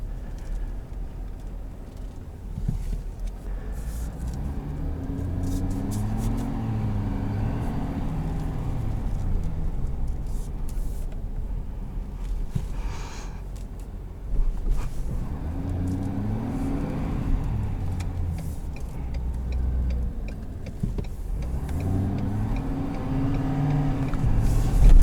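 A 2022 Ford F-350 XLT with the Powerstroke diesel engine, heard driving as a steady, loud low engine drone that rises in two clear acceleration sweeps, with no talking over it.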